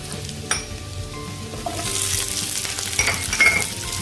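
Garlic sizzles in a pan while stir-frying for a beef dish, the hiss swelling louder midway, with utensil scrapes and a few light clinks of the spatula against the pan.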